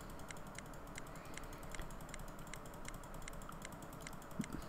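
A computer mouse clicks steadily while someone plays Mutants: Genetic Gladiators, giving a rapid, evenly spaced run of sharp, close clicks over a low background hum with no talking.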